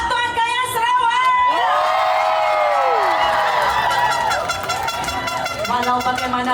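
Supporters in a large crowd at a state-level Orang Ulu long dance competition in Miri cheer and shout loudly and continuously, with whoops and raised voices throughout, and an announcer speaks over the noise.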